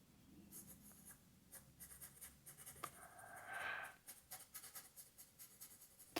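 A pencil sketches a ladder rung on paper in a 3D illusion drawing, giving close, quiet scratchy strokes in quick rhythmic bursts with one longer shading stroke midway.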